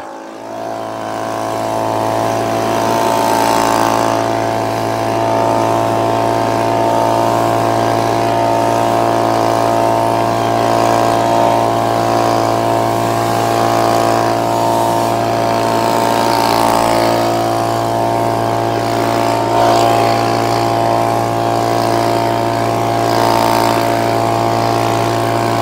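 Echo leaf blower's small two-stroke engine running steadily while it warms up, a loud, constant droning hum with a buzzy tone that stays even throughout, nearby and with no talking.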